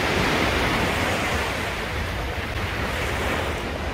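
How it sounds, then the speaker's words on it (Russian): Ocean waves break on Waikiki beach in Hawaii, a loud, continuous roar of surf close by, with wind buffeting the microphone and no voices. "О, здесь уже волна"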